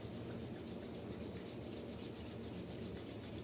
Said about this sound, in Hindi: एक बार फिर से हाथों को रब करेंगे